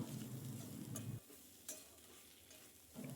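Diced potatoes fry with spices and turmeric for a Bengali red amaranth dish, with steady close sizzling and scraping stirs that drop away midway and then return near the end.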